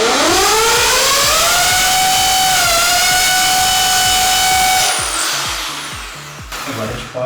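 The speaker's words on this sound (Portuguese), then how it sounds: "Primeiro nós vamos fazer um furo com esse aqui para marcar o local." A power drill bores a marker hole for Durafloor baseboard installation, a loud close whine rising in pitch and holding steady for about five seconds before it cuts off, leaving a few knocks and rattles.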